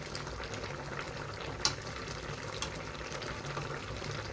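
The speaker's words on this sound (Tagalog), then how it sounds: "Kumukulo-kulo po siya mga kasi." Water bubbling at a low boil in a pot for miso, a soft continuous simmer with one sharper pop midway.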